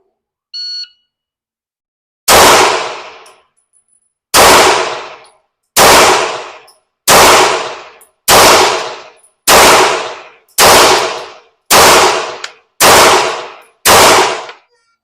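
A Glock pistol fires during GSSF match practice at a target: a short timer beep, then ten loud, sharp shots at a steady pace about one and a half seconds apart, each with a brief ringing decay and no talk.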